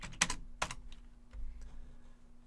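A few quick keystrokes clack on a computer keyboard as a short command is typed, then a quieter pause with a light thump, all close and faint.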